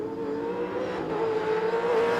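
Improved Production race cars at Sandown International Motor Raceway in Victoria, engines roaring steadily and loud as they charge through the final corners, a sustained high-pitched drone with no talk.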